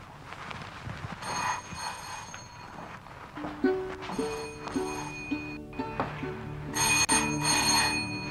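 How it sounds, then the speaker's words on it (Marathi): A telephone rings indoors in an empty house, repeated electronic ring bursts in a steady pattern with quiet room noise and faint movement between rings, no talk. "फोन वाजतोय, घरात कुणी नाही."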